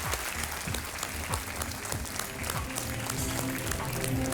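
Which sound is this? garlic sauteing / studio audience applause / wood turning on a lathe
studio audience applause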